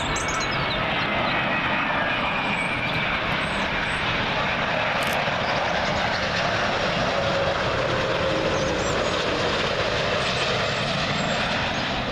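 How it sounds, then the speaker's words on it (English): A Virgin Atlantic Airbus A330 on arrival into Heathrow from Boston passes close and loud, a steady broadband jet roar with whining engine tones that holds throughout, with no talking. "Next one in, Virgin A330. This one's coming from Boston."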